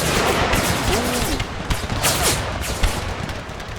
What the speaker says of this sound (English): Cannon shots coming way too close to our own men.